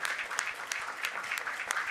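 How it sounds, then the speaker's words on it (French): Audience applause at the NRJ Antilles trophy awards ceremony, an even, moderately distant patter of many clapping hands throughout. "Et applaudissements à nouveau pour"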